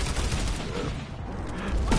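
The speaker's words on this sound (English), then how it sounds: "Okay, that's an ally turret. Okay, that's our turret. Good job, turret." An allied turret in Planetside 2 fires in a dense, continuous, loud burst of rapid shots throughout, close and harsh with no pauses.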